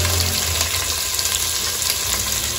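Garlic, ginger and green chillies fry in a pan with a steady, close sizzle that holds evenly throughout, with no talking.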